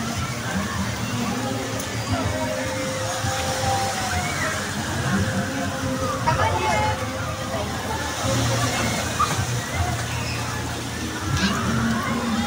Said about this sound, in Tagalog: yung swimming pool nagiging maalo na